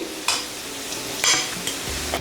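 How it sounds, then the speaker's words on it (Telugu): Quiet frying sizzle of boiled eggs in oil with a few sharp crackles and pops spaced irregularly, plus light stirring sounds close by. "ఇవి వేగేటప్పుడు కూడా కొంచెం జాగ్రత్తగా ఉండండి, చిన్న చిన్నగా చిట్లుతూ ఉంటాయి"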